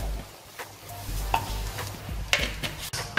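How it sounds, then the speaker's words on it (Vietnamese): A spatula scrapes and turns a garlic crab mixture in a pan over a low sizzle, with a few sharp metallic clacks against the pan at irregular moments, close by, and nobody talking. "các bạn dùng cái sạn các bạn đảo đều ha, đảo đều cái hỗn hợp nãy mình vừa cho vào."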